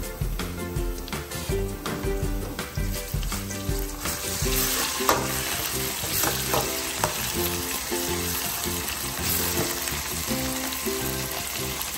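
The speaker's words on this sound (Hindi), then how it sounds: "ऐड करेंगे 1 टेबलस्पून अदरक लहसुन पेस्ट" Ginger garlic paste sizzles in hot oil with onions in a karahi for chicken wings, a steady close frying hiss with stirring scrapes throughout and no talking.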